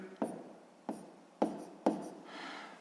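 A pen writes by hand on paper while working a sixth-grade maths exercise, with four sharp scratching strokes at roughly even intervals, close and fairly quiet, followed by a soft rubbing sound.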